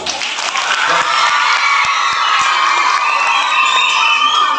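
Prize winners at the Prathibha Karanji program at Little Flower School, Darbe, Puttur, get loud, sustained applause mixed with children's cheers and shouts. A few distinct claps stand out from the dense, close crowd noise.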